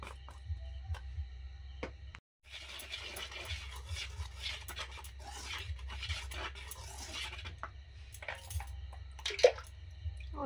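Small amounts of water are worked into a red chili powder batter for fried snacks, giving soft wet stirring and squelching in bursts over a low steady hum, with brief clicks and a short pause.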